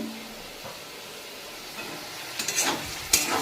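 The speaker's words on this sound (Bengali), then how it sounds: "দেখো বন্ধুরা অনেকটাই ভাজা হয়ে এসছে এর থেকে বেশি ভাজবো না" Vegetables frying in a pan for a vegetarian breakfast chowmein dish, a soft steady sizzle with a few louder scraping stirs near the end, no talking.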